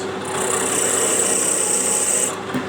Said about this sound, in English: let's see if I can machine the body of this tap wrench with high-speed steel